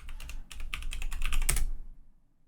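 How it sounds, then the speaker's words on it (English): Keys on a computer keyboard are tapped out in a quick, uneven run of close clicks for about a second and a half, typing a password with no talking. "I'll type in a password."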